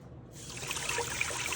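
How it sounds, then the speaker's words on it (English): Cold water trickles and splashes over rice being washed in a pot, a faint, continuous liquid dribble close by with no talking. "if you want to know how to wash rice properly, you put a bunch of water in it,"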